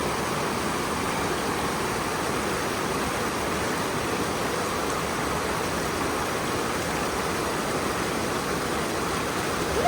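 A mountain stream on a hiking trail, heard as a loud, unbroken rush of flowing water close by.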